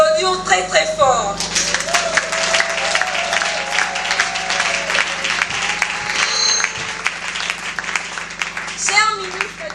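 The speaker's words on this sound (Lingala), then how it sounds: "Je vous demande de les applaudir très très fort" Loud, sustained applause from a church congregation honouring women at a Women's Day celebration, dense clapping rolling on for several seconds with cheers and a few voices rising over it near the start and end.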